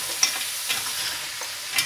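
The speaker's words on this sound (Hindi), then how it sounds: "अब डालेंगे पैकेट सब्जियों वाला और 1 मिनट भूनेंगे।" Packet vegetables and mutton fry in a pan with a steady close sizzle, broken by a few sharp clinks of a spoon stirring.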